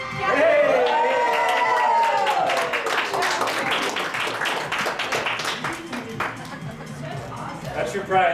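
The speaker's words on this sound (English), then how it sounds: "That's your prize, a nice round of applause." A group applauds after a round of catchball, a team game: scattered clapping mixes with whoops, shouts and overlapping voices, loud at first and then easing into chatter.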